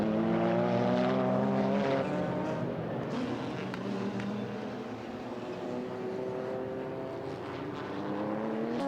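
Two race cars, the Hoshino Racing Calsonic Skyline and a Castrol Supra, roar past in a 1996 JGTC race, loud engines with rising and falling harmonic pitch sweeping steadily throughout, no talk.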